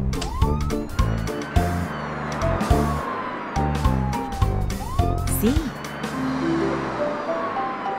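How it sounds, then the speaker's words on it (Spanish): A police car siren sweeps up and down several times within a children's song about trucks and cars, sounding over the music and sung vocals. "Su sirena sonando nos viene a decir que ella está aquí."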